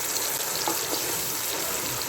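Ground onion, ginger, garlic and chili paste fries in hot oil, a close, steady sizzling crackle with a few louder spits, heard alone.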